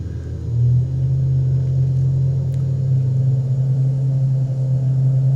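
Simulated Beechcraft King Air turboprop engines spooling up for the takeoff roll in X-Plane, a loud steady low drone that rises at the start and then holds evenly, heard alone.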